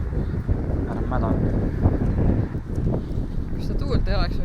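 Gusty wind buffets the microphone outdoors in a steady rough roar, with people talking over it.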